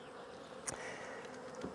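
Honeybees buzz steadily around hive frames while a nuc is being made, a dense, even hum close by with a few brief louder passes of individual bees.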